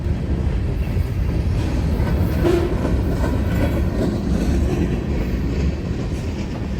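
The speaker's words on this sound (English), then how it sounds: "This mixed manifest train is heavy, mostly loaded cars headed south to California" A loud, continuous rumble of a heavy, mostly loaded BNSF mixed manifest freight train rolling past nearby in Central Oregon, wheels clattering steadily on the rails with a faint metallic squeal.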